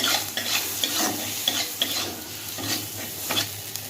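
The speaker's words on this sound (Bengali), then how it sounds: "মশলা কষানো হয়ে গেছে" Spices with a little turmeric frying in a pan while being stirred, a steady sizzle with repeated scraping strokes of the spoon and faint clinks against the pan.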